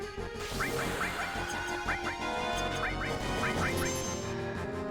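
A stream's goose-button sound effect plays a string of loud, honking goose calls in quick bursts, layered over continuous background game noise while someone talks.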